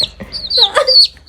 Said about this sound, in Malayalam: നമ്മുടെ കോഴിക്കുട്ടികൾ ഇവിടെ ഉണ്ട്.